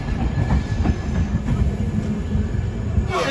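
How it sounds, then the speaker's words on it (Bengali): A passenger train heading to Lucknow runs on its rails, giving a continuous close rumble with rhythmic wheel clatter that stays loud and steady throughout, with no talk. "একদম রাইট টাইমে ট্রেন চলছে"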